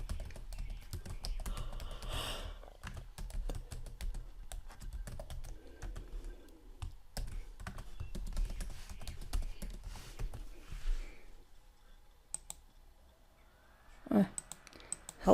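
A login password is typed on a computer keyboard in rapid, irregular bursts of close key clicks with short pauses, ending in a louder cluster of keystrokes.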